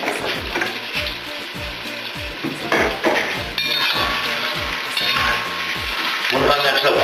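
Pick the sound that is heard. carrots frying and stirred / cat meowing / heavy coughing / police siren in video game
carrots frying and stirred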